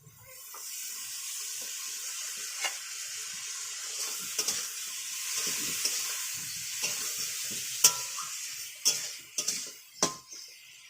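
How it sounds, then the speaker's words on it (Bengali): Potato and ridge gourd fry in a pan with a steady, close hiss and sizzle, broken by occasional clicks and scrapes of stirring, with the scraping growing busier toward the end. "আলুটা ঝিঙেটা ভাজা ভাজা হয়ে গেছে"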